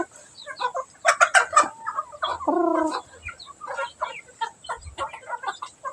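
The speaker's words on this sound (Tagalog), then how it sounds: "Kaon ng manok guys." Several chickens clucking in short, irregular bursts close by, with one longer drawn-out squawk partway through.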